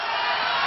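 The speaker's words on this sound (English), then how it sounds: "now the crowd is cheering." Crowd at a UST versus Ateneo volleyball Final Four match roaring and cheering, a brief dense wash of many voices, loud and steady with no pauses.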